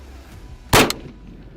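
A single sharp rifle shot fired while zeroing an AGM thermal scope cracks loud and close, followed by a brief echo that fades quickly.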